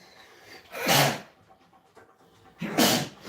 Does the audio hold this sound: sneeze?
yes